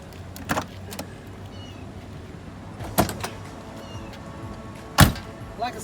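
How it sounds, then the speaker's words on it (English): Popping the hood of a 1982 Corvette: three quiet, separate mechanical clunks and clicks of the latch and hood over soft background hiss. "Let's go ahead and pop the hood."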